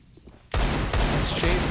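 Shooter video game gunfire from an esports match erupts suddenly after a quiet moment, a loud dense burst of rapid shots that fills the rest of the short stretch.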